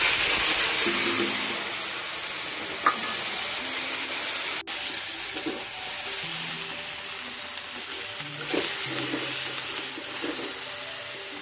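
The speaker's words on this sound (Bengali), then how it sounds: "ভেজে ভেজে এখানে পাঁচফোড়ন দিয়েছি" Frying five-spice with cumin, coriander and turmeric over vegetables for a Bengali paachon makes a steady close sizzle, with occasional stirring scrapes and a sharp click midway.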